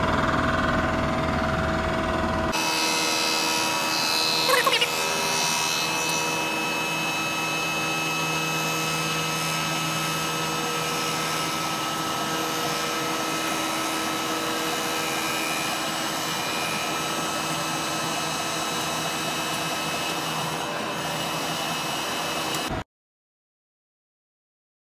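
A steady machine drone with a high whining hum runs continuously as a surfacing machine makes a light cut across a cylinder head, then stops abruptly near the end.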